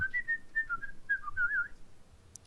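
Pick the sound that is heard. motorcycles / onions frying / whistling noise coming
whistling noise coming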